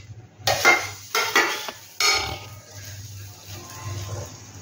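Fried vegetables are mixed into bread upma in a pan, three firm scraping stirs of a spatula against the metal, followed by a gentler, quieter shuffle; no talk.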